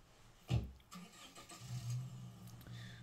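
A car engine starts up in the State of Decay 2 video game, a loud cranking burst followed by a low, steady engine rumble that settles into an idle, heard alone without talk.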